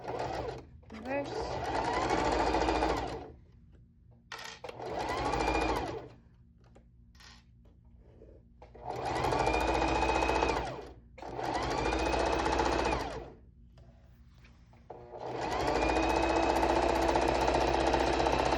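A sewing machine stitches a pillowcase in three bursts of rapid, mechanical needle chatter, each a few seconds long, with quiet pauses between them. The sound is close and fairly loud.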